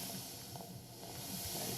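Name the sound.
steam hissing in video game Daria's Inferno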